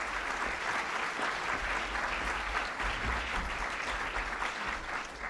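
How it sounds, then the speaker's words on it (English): A roomful of people at a luncheon applaud in a steady, continuous round of clapping, full and even from start to finish, fading slightly at the very end. "Let's hear a great round of applause for Sherry Gleed."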